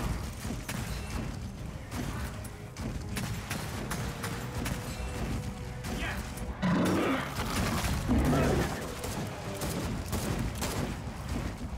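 Video game gunfire, a dense run of sharp rapid shots and clattering impacts at moderate level with a louder roaring burst partway through.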